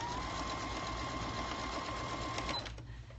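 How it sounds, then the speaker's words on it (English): A sewing machine stitches a zipper into a pillow cover, a steady close rapid whirring and needle clatter that runs for about two and a half seconds before slowing and stopping. "Now let's stitch."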